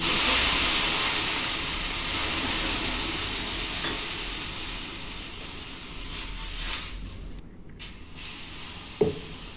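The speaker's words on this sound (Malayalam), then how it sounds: "ചൂടൊന്ന് ബാലൻസ് ആകുന്നതിന് വേണ്ടി അപ്പം വെള്ളം ഒഴിച്ചു കൊടുക്കുന്നുണ്ട്" Steady, loud sizzling hiss of water hitting a hot dosa griddle, fading slightly over time, with a sharp click near the end.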